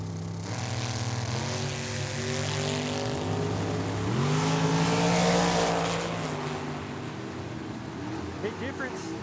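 A Chevrolet S10 and a dragster race side by side down the drag strip at Tucson Dragway, engines revving hard through rising gear pulls to a loud peak and then fading away, with an announcer talking over the run.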